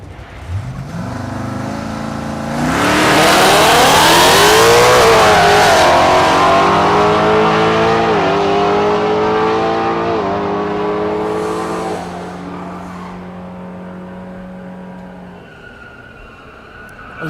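Drag race cars, one of them a Mustang, launch down the strip at Thunder Valley in Noble, Oklahoma. Engines roar and climb through rising gear sweeps, hold loud, then drop away as they pull off.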